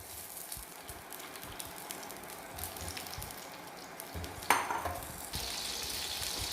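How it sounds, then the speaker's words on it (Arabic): Chicken pieces and onion frying in olive oil for an olive tagine, giving a soft, steady sizzle with faint stirring scrapes and one brief clatter partway through, close but quiet, with no talking. "نقلو في الطرف تاع الدجاج مع البصله، نخليهم ينقليو."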